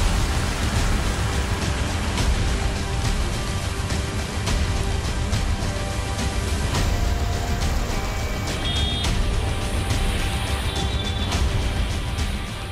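Heavy rain falls on the streets of Delhi as a dense, continuous hiss, with traffic rumbling underneath and faint beeps toward the end, and no talk.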